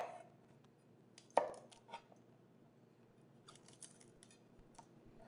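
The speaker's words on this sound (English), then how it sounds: "You just cut the ends off, and then you can just make it into little florets." A knife cuts a vegetable into florets on a board, a few faint, sparse chops and taps with one sharper cut, quiet and close in an otherwise near-silent kitchen.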